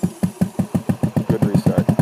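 A motorcycle engine on a solo practice ride restarts and runs with a steady, rapid pulsing beat, close and fairly loud, with no talk over it.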